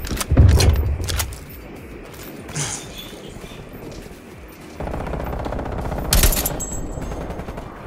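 Light machine gun fire in Call of Duty Cold War, loud rapid bursts of automatic gunfire with a dense rattling stretch and a sharp burst near the end, amid game noise, no talk.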